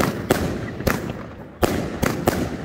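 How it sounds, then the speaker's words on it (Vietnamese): Firecrackers set off at a company New Year 2023 celebration in Vietnam crack in sharp, loud bursts, about five distinct bangs spaced irregularly over a few seconds with crackling between them. "Văn Long, Tổng Giám đốc Tập đoàn Thăng Long đã bật lửa châm ngòi đốt pháo và chuẩn bị bắt đầu"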